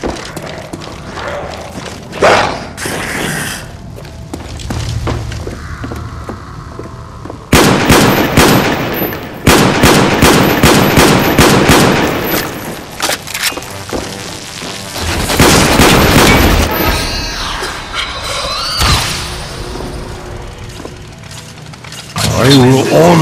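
Gunfire from Black Ops zombies mode sounds as loud sharp shots and rapid automatic bursts mixed with booms and thuds, coming in clusters with pauses between and voices speaking in among the action.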